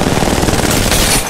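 Rapid automatic gunfire from Apex Legends Mobile, a dense, loud, continuous burst of game gunshots lasting just over a second.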